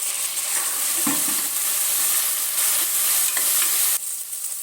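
Chopped tomato fries in a pan for a mutton curry, giving a steady hissing sizzle with a few soft stirring knocks and a slight drop in loudness near the end, no voices.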